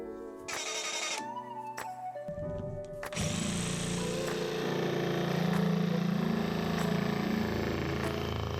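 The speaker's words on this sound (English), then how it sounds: "With a 10mm hole, I can then easily use the jigsaw to cut it out." Jigsaw cutting an opening for a pond filter flange, starting and stopping with a few short bursts before settling into a steady, buzzing, loud cut that runs for several seconds alone.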